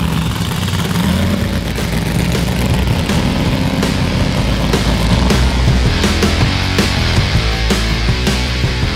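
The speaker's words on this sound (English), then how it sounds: "you hear the motor rev up, shift, and then you're going to lift" A dragster engine at a drag racing school roars loudly and continuously at close range, a dense rumbling drone that stays at a constant level throughout.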